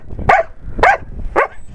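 Three sharp dog barks in quick succession, evenly spaced and close by.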